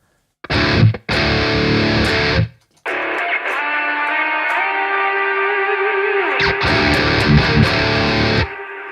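A distorted electronic tone cuts in and out in sharp bursts from a supercut effect, then swells into a long reverberant wash with reverb and delay echoing tails before the choppy bursts return.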